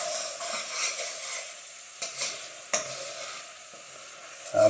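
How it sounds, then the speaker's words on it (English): Food sizzles steadily in a hot pan while a utensil scrapes and stirs, with a few sharper knocks against the pan. "So the sizzling is starting to die down now."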